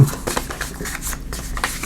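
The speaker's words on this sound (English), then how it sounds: "Let's do a little shuffle here." A deck of oracle cards being shuffled by hand during a tarot-style reading, a steady, soft riffling and sliding of card stock with small bursts of flicks throughout, close and quiet, with no talking.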